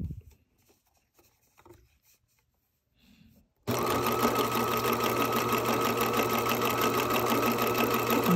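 Sewing machine stitching a knit neckband, starting abruptly after some faint handling noises and then running as a fast, steady, loud mechanical whir with rapid needle clatter, close up.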